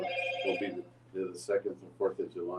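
A mobile phone rings with a bright, tonal ringtone burst lasting under a second at the start, close and fairly loud, overlapped by someone talking, whose conversation continues after the ring stops.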